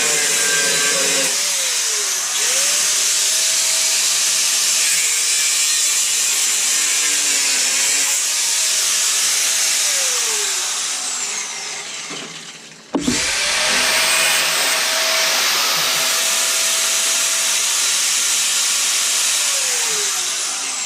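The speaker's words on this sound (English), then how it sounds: "drill out the spot weld" A drill drilling out spot welds on a rusty Rover P5B body panel whines loudly for long stretches, with pitch sweeps as the load changes, a brief cut-out near the end, then it resumes.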